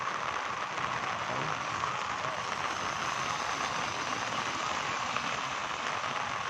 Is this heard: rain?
yes